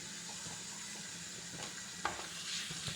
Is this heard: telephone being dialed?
no